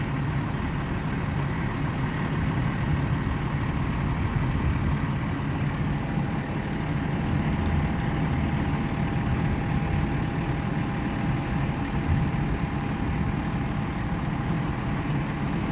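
A fire engine pump idles at low RPM, giving a steady, continuous engine drone that holds an even level throughout, with no talk.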